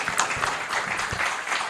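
An audience applauds a Rotary past district governor at a mentorship event, with a steady, close wash of many hands clapping throughout, a few sharper individual claps standing out.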